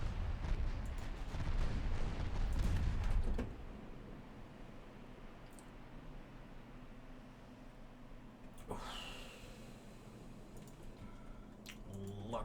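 Warship guns firing in the Ultimate Admiral Dreadnoughts naval battle game: a loud, heavy rumbling barrage for a few seconds, then quieter background with a couple of distant booms and splashes.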